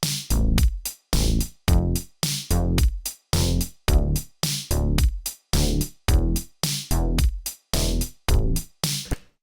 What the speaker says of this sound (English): what I've got here is just a good old 1, 6, 4, 5, like the chord progression that every pop song in the world uses